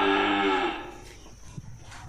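A Tra Vinh cow at a cattle sale gives one loud, close moo lasting under a second, followed by quieter farmyard shuffling and faint background noise.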